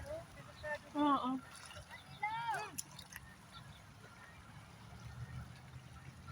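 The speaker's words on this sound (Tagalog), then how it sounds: "Malakas ang alon." Strong sea waves slosh and wash in the background, low and steady, while voices chatter over them near the start.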